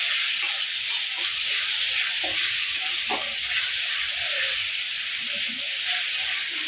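Steady hissing sizzle of ginger, garlic and green chilli frying in a pan, continuous and close, with faint stirring scrapes beneath.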